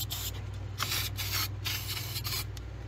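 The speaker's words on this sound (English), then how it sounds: "Put a little spray on this thing." An aerosol can sprays in short hissing bursts onto a part of a Generac generator that won't start, close up over a steady low engine-like hum.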